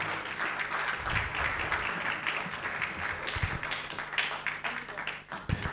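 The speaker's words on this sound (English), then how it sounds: "Please, can we clap for them one more time?" An audience at an institute's anniversary celebration and general meeting claps for its panelists and moderator with sustained, dense applause that fills the room, with a few louder claps near the front.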